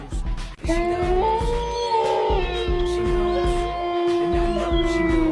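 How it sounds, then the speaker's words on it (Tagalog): A dog's long, drawn-out howl rises and holds, wavering slightly, over steady rhythmic background music. "ayan na naman yung alulong ng aso"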